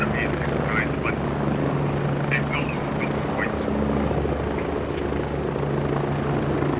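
Helicopter in the SquadOps video game, a steady rotor and engine drone running loud and constant throughout, with voices talking over it.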